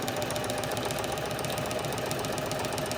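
Sewing machine running steadily through a seam along a paper-crafting pocket edge, a dense continuous mechanical whir with rapid stitching pulses, fairly loud and close, with no talk over it.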